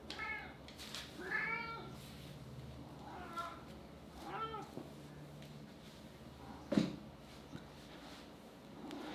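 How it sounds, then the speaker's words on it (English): An old pet cat meows several times indoors, the calls rising and falling clearly and close by, with quiet pauses between them and a brief knock partway through. "So this is my cat Chester"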